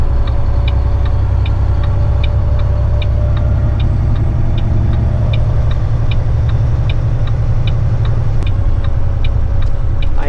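A heavy-haul truck's flashing-light indicator ticks in a fast, regular clicking rhythm over the steady low drone of the idling engine inside the cab, with no talk.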